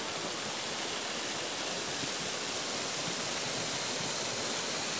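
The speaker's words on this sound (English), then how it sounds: "up here at the waterfall" A waterfall along a wooded trail, with a pool further downstream, gives a steady, even broadband rush of falling water that stays constant throughout, with no voices.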